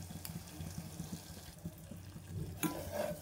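A spoon scrapes and stirs sugar melting dry in a tea pan over a low gas flame, with faint sizzling and soft repeated clinks, close and quiet with no talking.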